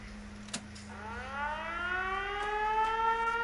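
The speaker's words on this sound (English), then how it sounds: "This is a siren that basically you can turn it on." An outdoor warning siren at a sanctuary winds up from a brief click into a rising, sustained wail that grows steadily louder, with a low steady hum underneath throughout.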